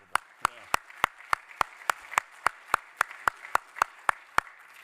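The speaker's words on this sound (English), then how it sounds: "I just think we ought a little round of applause for the first three speakers" Slow, evenly spaced single handclaps ring out in a steady rhythm at a military seminar, sounding faint and somewhat distant.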